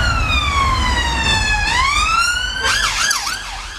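A loud police siren wails up and down nearby on a street in Preston, England, then switches to a rapid yelping warble near the end.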